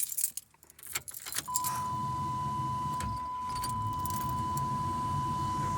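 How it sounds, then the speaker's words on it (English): Keys jangle briefly, then a 1998 Chevy Silverado pickup truck with a bad voltage regulator cranks and catches, settling into a steady idle with a faint high electronic tone. "when I started the truck up, I'll go ahead and do it right now."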